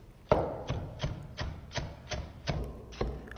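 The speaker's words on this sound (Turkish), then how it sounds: "Nane ve maydanozu ince ince doğruyoruz." A knife finely chops mint and parsley on a board, with eight evenly spaced, sharp knocks at a steady rhythm, close and fairly quiet.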